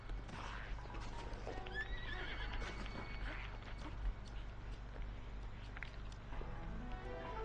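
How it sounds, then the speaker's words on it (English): A horse in a video game neighs and whinnies over the steady clip-clop of hooves during a long ride, with a low constant hum underneath and no talk. "That's a long horse ride"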